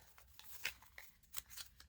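Tarot cards being shuffled by hand at a desk, a string of soft crisp riffling and flicking bursts at an irregular rhythm, fairly quiet and close with no talking.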